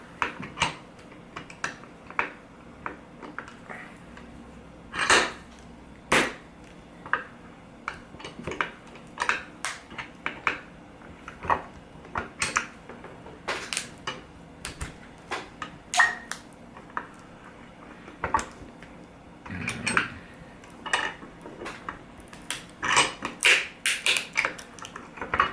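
Plastic lithium battery pack casing being cracked open by hand to salvage 18650 cells, with a long run of sharp clicks, snaps and taps at close range, irregular and bursty, with no talk.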